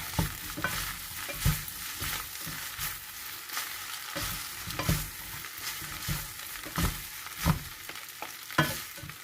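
Shrimp frying in a hot pan while being stirred and flipped, a continuous sizzle broken by repeated scraping strokes of the utensil at a steady rhythm, close and fairly loud, with no speech.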